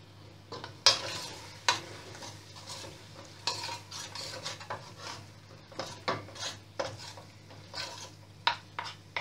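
Spice powders being stirred into chicken in a pot for kebuli rice: intermittent scraping and clinking strokes of a spoon against the pot, loud and close, over a steady low hum.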